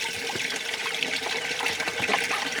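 Water from a rain barrel system runs steadily into a duck pool, a continuous close splashing gush that holds for the whole stretch with no voices over it.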